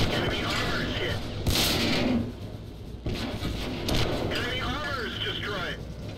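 Tank guns fire in World of Tanks, heavy booming shots with rumbling echoes breaking out several times among engine and battle noise, while someone talks over much of it.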